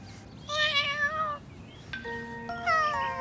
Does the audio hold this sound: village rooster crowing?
no